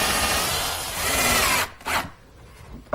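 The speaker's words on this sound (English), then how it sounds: "Now I'll just pre-drill some holes for some 1 5/8" A power drill pre-drills screw holes in wood for 1 5/8 inch screws, a steady broadband whir running close and loud for about a second and a half, followed by a couple of short bursts as the bit is pulled and reapplied.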